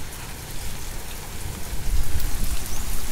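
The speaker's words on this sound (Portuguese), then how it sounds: "Olha o granizão aí, ó." Steady rain mixed with hail pours down during a storm over a newly built sidewalk, a dense close hiss with low drumming impacts that grows slightly louder toward the end.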